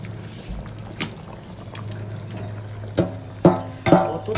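Cauliflower curry gravy bubbles at a rolling boil, a low, steady simmering murmur, and then pieces of fried cauliflower drop into the pot with a few wet splashes and plops toward the end.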